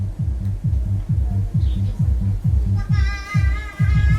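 A subwoofer thumps deep, steady low-frequency bass pulses in a fast repeating beat during a sound system check with a crossover in stereo mode, loud and booming, with some higher music tones joining near the end.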